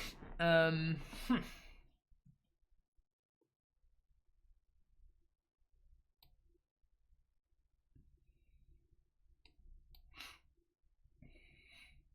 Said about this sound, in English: Man, so much sneezing.